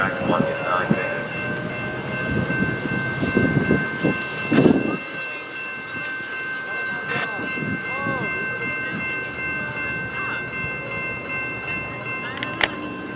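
Metrolink train arriving at Glendale station: a loud, close rumble of rolling wheels and railcars, with squealing brakes and tonal horn-like whines over a steady station background hum.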